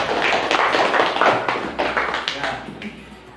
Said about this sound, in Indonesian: berikan tepuk tangan buat adik